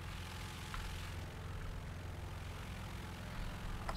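IAR 81C propeller fighter droning steadily in flight in a combat game, a low, even, continuous engine hum with faint background noise and no talk.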